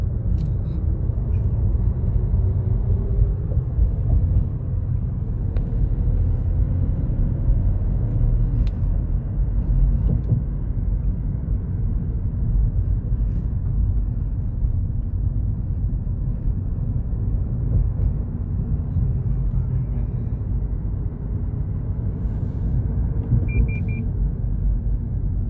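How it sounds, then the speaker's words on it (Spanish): Street traffic in Houston rumbles as a steady, dense wash of passing cars, with no voices over it. "Aquí hay un poco de tráfico."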